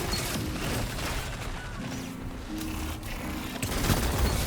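Dense, continuous gunfire from a multiplayer shooter game crackles throughout, with overlapping shots and impacts at a steady, busy level and a louder burst near the end.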